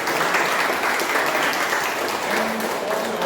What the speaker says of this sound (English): Let's have a big round of applause for all these speakers